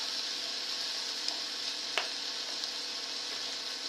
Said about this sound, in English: Don't forget to stir your onion.